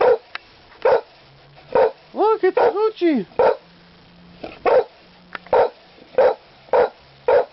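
A dog barks and yips several times in quick bursts, close by, with people talking between and over the barks.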